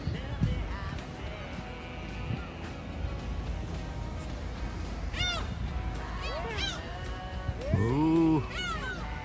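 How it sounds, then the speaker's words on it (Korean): Seagulls call repeatedly over a harbor on an island coast, giving harsh, rising and falling cries at varying distances, the loudest a close squawk near the end, over steady outdoor background noise. "갈매기"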